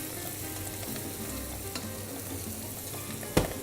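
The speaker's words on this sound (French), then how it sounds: "Donc je remue." Ingredients for a chicken jus fry steadily in a pan with a continuous close sizzle, broken by scattered stirring scrapes and one sharp utensil knock near the end.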